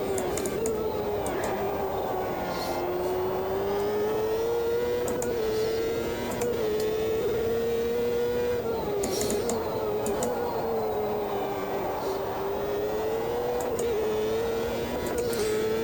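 A race car engine in the Automobilista 2 racing game drones steadily, its pitch rising and falling through gear changes and corners, loud and continuous with no talk.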